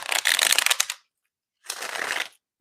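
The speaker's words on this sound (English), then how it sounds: "I know shuffling sometimes can be very loud." Two bursts of playing cards being riffle-shuffled, close and fairly loud, separated by a short silence.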